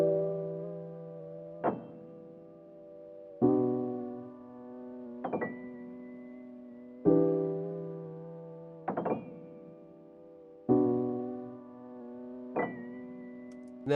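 Soulful vintage-style chord samples processed with wobble, reverb and texture effects, swelling in repeated phrases of sustained tones with soft attacks every couple of seconds, at moderate level with no voices.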